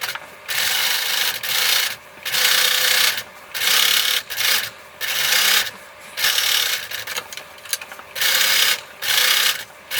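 Sewing machine stitching a fused-on patch along the edge of a refashioned T-shirt, running in repeated short bursts with brief pauses between them, close and fairly loud.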